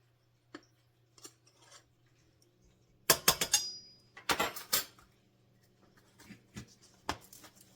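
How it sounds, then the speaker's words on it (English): A knife's back scraping a tablespoon of meringue powder level for royal icing, heard as a few light scrapes and taps with small metallic clinks, quiet and close, separated by pauses. "Use the back of your knife to scrape it off and make a level tablespoon."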